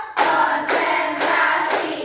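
Classroom clapping pattern: a group of pupils claps in unison in four loud, evenly spaced bursts about half a second apart, with no talking over them.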